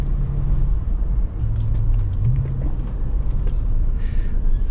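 An Audi S5 B8 driving on the road, its engine giving a steady low rumble with constant road and tire noise throughout and a faint higher whine drifting in and out.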